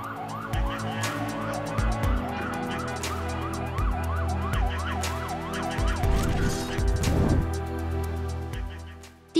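Ambulance siren wailing in a rapid rising and falling sweep, loud and continuous, with car horns honking and a dense traffic jam around it.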